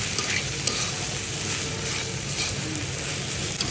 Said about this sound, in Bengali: এখন আমি উস্তা ভাজিতে ধনে পাতা ছিটিয়ে এটাকে একটু নেড়ে চেড়ে নামিয়ে নেব